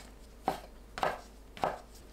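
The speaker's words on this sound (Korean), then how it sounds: "대 부분은 끝에 딱딱한 부분을 잘라내고 얇게 썰어주세요." A knife slices mushroom stems thinly on a board, giving three crisp, evenly spaced chops about half a second apart, close and alone.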